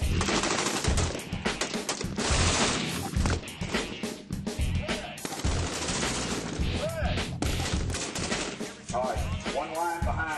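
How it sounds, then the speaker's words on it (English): Rifle gunfire rattles almost without pause through sailors' shooting training, loud and crowded rapid shots from many weapons, with shouted voices breaking through. "They also do a lot of shooting."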